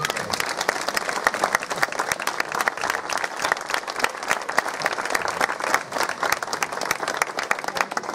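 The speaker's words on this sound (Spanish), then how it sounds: "Quiero un fuerte aplauso para Dani, por favor" A festival crowd at a folk festival presentation claps loudly for a speaker's friend, with sharp individual hand claps standing out within a steady, lively round of applause.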